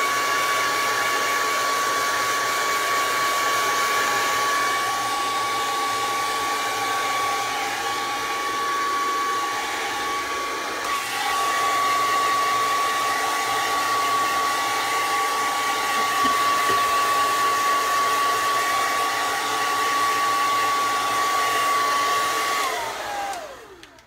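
A hair dryer blowing steadily to dry watercolor paint in an art journal, a continuous near whine and rushing air that runs alone for over twenty seconds before clicking off at the end.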